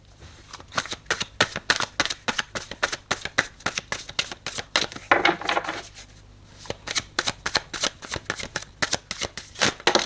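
Tarot cards shuffled over and over for a spiritual card reading, giving rapid riffling bursts in a steady rhythm, close and crisp, with a short pause partway through and no talk.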